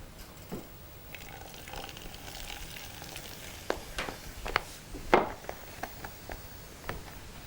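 Vinegar poured onto baking soda in a science-show experiment fizzes with a steady, faint hiss dotted with small crackling pops, with no talking.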